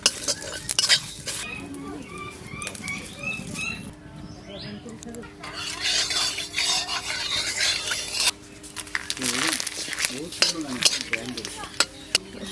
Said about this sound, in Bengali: শুকনো কড়াতে তেজপাতা দিলাম, তেজপাতাটা হালকা ভাজা হয়ে গেলে এবার জিরে দেবো